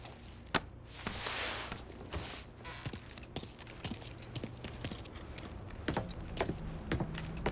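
In the video game Mafia III, a ring of keys jangles and clinks in quick, bright bursts up close, with faint footsteps and a low vehicle hum underneath.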